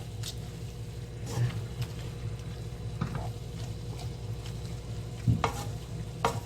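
A ham and pepper braise with shredded dried pollack simmers and reduces in a pan, a low steady bubbling with occasional stirring clinks and a faint voice in the background.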